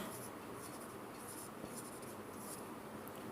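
Chalk or marker writing words on a classroom board, a steady faint scratchy texture running continuously under a quiet room hiss, with no talking.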